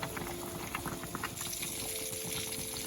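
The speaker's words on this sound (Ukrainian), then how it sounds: "Гарненько закипіло, варимо 10-15 хвилин." Eggplant pickling marinade bubbles at a steady boil in a pot on the stove, a continuous close gurgle of popping bubbles with no voices.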